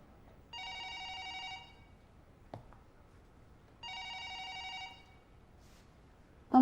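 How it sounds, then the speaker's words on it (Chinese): A telephone bell rings in two long electronic bursts separated by a few seconds of quiet, clear and moderately loud in an indoor room, with a soft knock between the bursts. "帮忙接个电话。"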